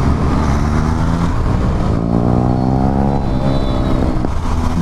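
A KTM 390 Adventure motorcycle being ridden through Jaipur city streets, its engine droning steadily and loud up close with rising and falling revs throughout.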